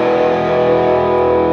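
An electric guitar through a Marshall JVM410 amp on the clean red channel rings out as one loud, sustained chord, close and alone.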